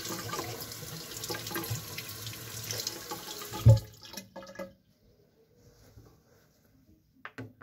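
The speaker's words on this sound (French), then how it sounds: "je vais mettre de l'eau sur la brosse et y rincer un peu comme ça" Running tap water splashes into a sink as a makeup brush is rinsed, a steady hiss that stops abruptly partway through, followed by a few faint handling sounds in a quiet bathroom.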